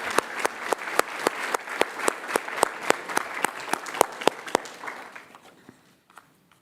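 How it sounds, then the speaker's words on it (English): Applause at a school board meeting: a fairly small audience claps in distinct, rhythmic beats that stay even for several seconds, then thins out and fades to near silence. "Please join me in showing our appreciation with a huge round of applause."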